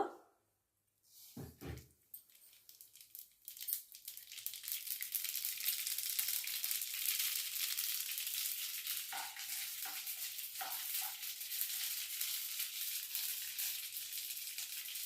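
Mustard seeds sizzle and crackle in hot oil for tempering in a pan, a steady bright frying hiss that builds after a brief pause and holds loud and continuous, with occasional stirring clatter.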